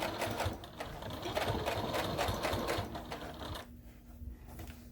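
Sewing machine stitching along a pocket of a fabric armchair caddy, a steady close mechanical whir with rapid needle ticking that eases off briefly near the end, no voices.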